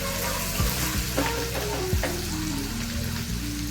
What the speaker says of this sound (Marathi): हे आपण आता अद्रक टाकणार आणि ते चांगलं फिरवून घ्यायचं।